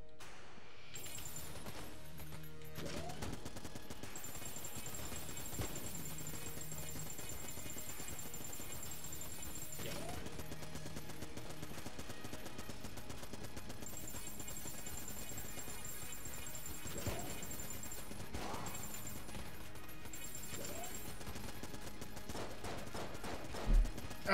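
Repeated bursts of gunfire from the Gatling Gull boss in the game Enter the Gungeon, mixed with game music and scattered impacts over a long stretch, fairly quiet overall.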